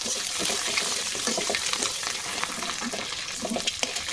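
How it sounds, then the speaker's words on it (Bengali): Eggs fry in a pan with oil in a steady, close, fairly loud sizzle that runs without a break, along with faint crackles as the eggs are turned. "এভাবে উল্টে পাল্টে ভাজতে হবে এপাশ ওপাশ দুপাশ যাতে ভালোভাবে ভাজা হয়"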